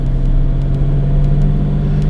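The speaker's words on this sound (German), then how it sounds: "Ich habe noch nie einen 12-Zylinder so gut laufen hören wie den hier." A 1972 Jaguar E-Type coupé's restored 5.3-litre V12 idles steadily nearby, a smooth, even low hum and rumble held at constant loudness with no revving, and no voices.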